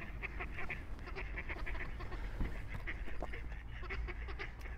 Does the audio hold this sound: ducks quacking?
yes